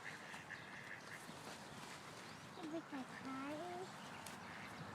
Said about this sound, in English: You're missing all the ducklings.